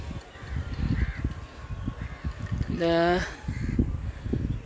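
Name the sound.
birds, crows cawing as they fly away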